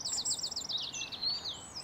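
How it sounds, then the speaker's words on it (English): Garden birds sing a quick, high warbling song of rapid trilled phrases, fairly clear and moderately close, with no other sounds over it. "you get the sound of the birds"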